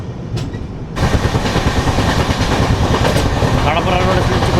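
Tirumala Express (18522) rolling on after departing Kadapa, a steady loud rumble with rhythmic clickety-clack of wheels over rail joints, swelling suddenly after a quieter first second and continuing without pause.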